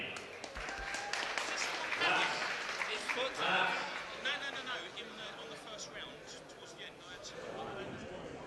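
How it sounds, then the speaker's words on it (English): An MMA event crowd applauds and cheers throughout, a broad wash of clapping and shouts that swells and fades, with an amplified announcer's voice over it. "make some noise for your runner-up, Rapheal Puig"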